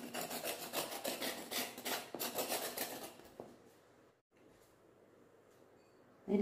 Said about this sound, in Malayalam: ഒരു തൊലിയെല്ലാം ചുരണ്ടി എടുത്ത് കഴിഞ്ഞു